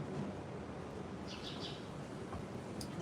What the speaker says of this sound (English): The birds really make it sound like a treehouse in here.